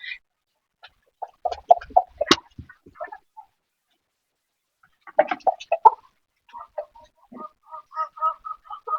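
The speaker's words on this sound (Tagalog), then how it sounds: "nagpapakain lang talaga ako ngayon sa mga manok ni June" Chickens cluck in short irregular bursts, a few birds close by, with brief pauses between flurries of soft clucking calls.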